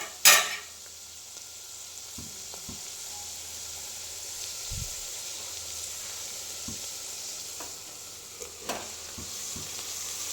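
Spinach sautéing in hot oil with moong dal in a pan, a steady soft sizzle with occasional scraping stirs and a sharp clatter at the start, no talking.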